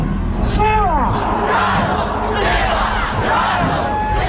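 Crowd chanting and shouting at a political rally during Ukraine's unrest. A loud, massed chorus of voices roars in rising and falling swells, with rhythmic chant-like cries over a dense crowd din.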